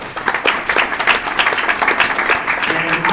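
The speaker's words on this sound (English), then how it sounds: "You can give him a round of applause." A conference audience applauds a contributor being welcomed on stage, with dense, steady clapping from a crowd filling the room throughout.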